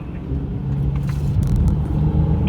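A Mercedes-Benz C43 AMG on a race track accelerates out of the corkscrew with a loud, close, steady engine roar and a low rumble building as the throttle opens.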